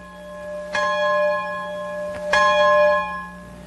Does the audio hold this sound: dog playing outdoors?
no